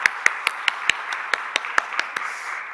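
About a dozen sharp, separate hand claps in a church congregation, roughly even in rhythm and close by, with a faint room tail between them.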